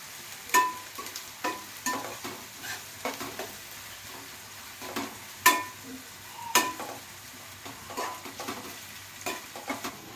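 Onions sizzle steadily in hot oil while a spoon scrapes and stirs through them in regular strokes, close and moderately loud, with no voices.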